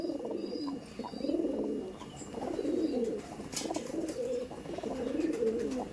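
Madrasi pigeons in a loft coo in repeated low, warbling phrases close by, rising and falling in a steady rhythm.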